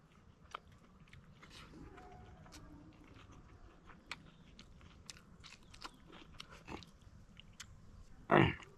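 Someone eating king chillies with smoked meat and cooked yam in a forest, quiet close chewing and crunchy bites scattered through the quiet, ending with one louder crunch; no talk.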